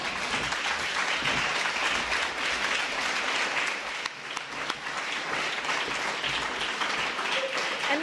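An audience claps in a sustained, dense round of applause throughout, steady and fairly loud with no pauses.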